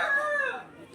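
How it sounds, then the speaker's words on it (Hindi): A rooster crows in a busy Sunday market, one drawn-out, loud, nearby call that trails off after half a second with no talk over it. "मुर्गा का आवाज़ को हल्का सा अवॉइड करके ही चल रहा है, क्योंकि ये साउंड बैकग्राउंड में आएगा ही।"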